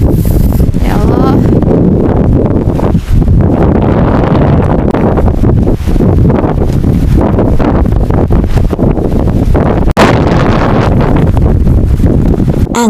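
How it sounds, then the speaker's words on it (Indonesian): Strong wind blasts across a mountain during a storm, roaring and buffeting the microphone in loud continuous gusts with a sharp knock near the end. "Angin bertiup makin kencang, itu artinya badai belum juga reda."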